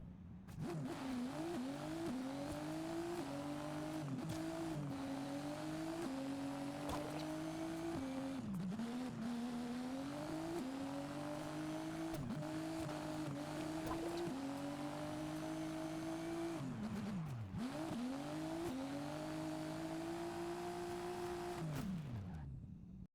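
A car in Forza Horizon 5 revs hard through a run, with the engine climbing and dropping repeatedly as it shifts and brakes, and occasional tire squeal. It is loud and continuous throughout, with no voices.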